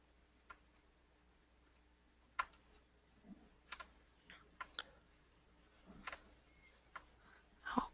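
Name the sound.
someone typing on a computer keyboard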